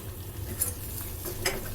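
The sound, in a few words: stirring gram flour frying with spices in pan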